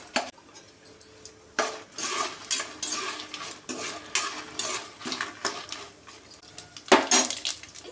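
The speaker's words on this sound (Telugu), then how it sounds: "ఇప్పుడు ఈ ఎండుమిరపకాయలు లైట్గా ఫ్రై చేసుకోవాలి" Dried red chillies lightly frying in a pan, with a spoon stirring and scraping against the metal in irregular clinks and scrapes, sizzling faintly between strokes, close and without talk.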